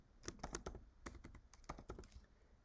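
Someone types code on a computer keyboard in quick, uneven clusters of soft, close key clicks, with no talking.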